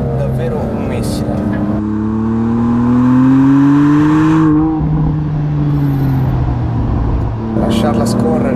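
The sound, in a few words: BMW M2 Competition car accelerating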